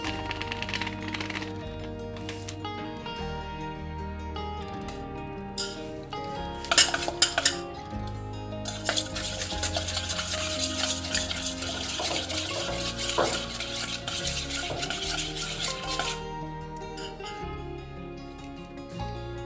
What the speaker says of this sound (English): Now add 2 tablespoons of cornstarch and mix it again.